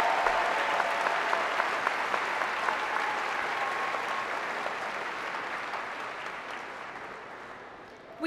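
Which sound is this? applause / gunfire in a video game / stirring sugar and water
applause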